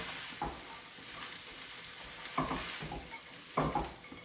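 Soft sizzle of already-cooked turkey being warmed in a hot pan with other ingredients, with three short stirring scrapes and clatters spaced out over a quiet hissing bed.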